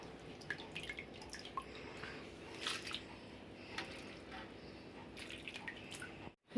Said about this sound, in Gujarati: જ્યાં સુધી ચોખ્ખું પાણી થાય ને ત્યાં સુધી ધોવાની